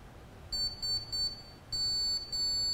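A small electronics board sounds a repeating SOS pattern in Morse code on a shrill buzzer: three short beeps followed by long sustained tones. The beeps are close and clear, with only quiet background between them.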